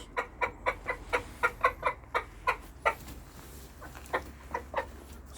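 Chickens cluck in a steady series of short, close calls inside a mud-brick coop with a faint background hum, a rooster among them.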